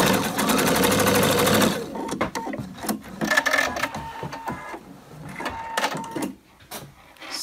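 Sewing machine stitching a pocket onto a long vest, a fast, steady, loud whirring run of stitches for a couple of seconds, then stops, followed by quieter handling clicks and brief short bursts.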